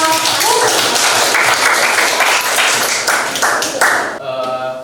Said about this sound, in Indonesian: kita kasih tepuk tangan untuk kelompok